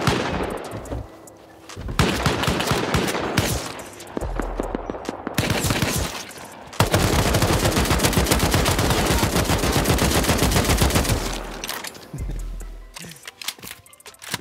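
Rapid turret gunfire rattles in a video game raid, loud, sustained bursts broken by short pauses, close and dominating the scene.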